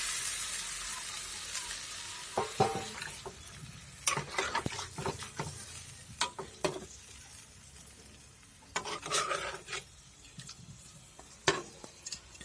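Fried chicken curry in a pan with water added, a faint sizzle under intermittent clatter and scraping from stirring.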